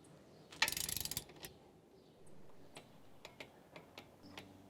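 A bolt on a metal handrail over concrete stairs gives a quick run of about a dozen close, crisp clicks as it is tightened, then a few scattered fainter ticks in a quiet room.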